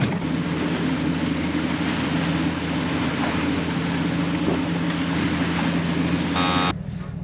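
A fishing boat's outboard motor drones steadily while trolling on a reef, a constant hum with water and wind noise throughout, ending in a brief electronic beep.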